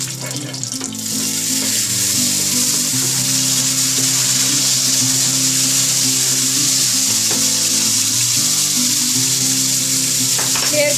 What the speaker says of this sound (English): Here goes the garlic